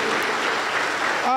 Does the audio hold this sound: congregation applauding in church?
yes